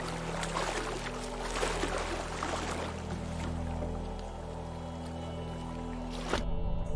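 Splashing and sloshing of a character swimming through water in the game Teardown, a continuous watery churn with a steady low hum beneath and a brief louder splash near the end.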